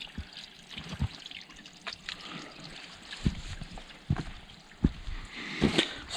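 Water trickles softly from a small seep near the top of a mountain, a faint, close dribble with scattered drips and no talk.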